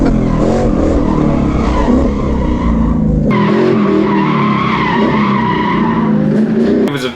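Drift car tires squeal loudly and continuously as the car slides sideways on a race track, with the engine revving underneath and a sharp change in tone partway through.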